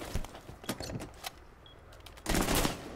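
Gunfire in a shooter video game comes as several quick bursts of sharp reports scattered through the moment. A louder, denser burst comes near the end, with no talking.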